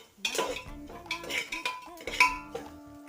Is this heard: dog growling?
no